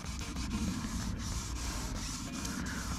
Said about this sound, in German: Werden wir jetzt mal ein bisschen überschleifen, bis wir wirklich merken mit der Hand, wenn wir es rübergehen, dass alles glatt ist.